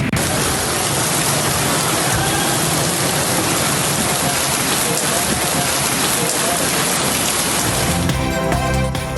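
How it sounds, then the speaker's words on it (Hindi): Heavy rain pours steadily during a thunderstorm in Punjab, Pakistan, a loud, dense hiss of downpour throughout, with a musical sting entering briefly at the very end. "पंजाब के मुख्तलिफ इलाकों में घन गरज के साथ बरसात।"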